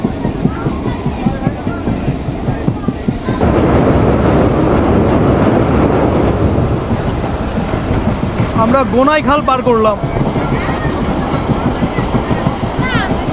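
Mongla commuter train hauled by a class 65 series locomotive rolls along at a steady clip, a continuous loud rumble and rattle of the carriages with someone talking over it throughout and a brief squealing burst partway through.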